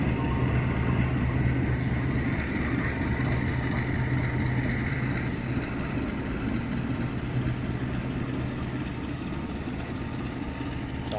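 Diesel locomotive for the Sri Tanjung train pulling away toward Lempuyangan station, a steady engine rumble with a low hum, heard fairly close and continuous, with faint periodic clanks.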